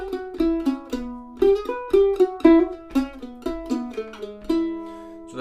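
A mandolin plays a four-bar melodic phrase in E, with close, clear plucked notes in a quick rhythmic run and ringing sustained tones between picks, alone without talking.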